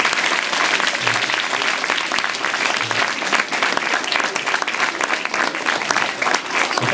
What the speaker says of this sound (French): rapprochez-vous pour les applaudir encore